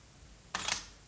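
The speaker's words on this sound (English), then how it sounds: "So the next thing that you want to change is the shutter sound." A Sony a7R II mirrorless camera fires its shutter once with silent shooting off, a single sharp, loud mechanical click-clack close to the microphone after a quiet pause.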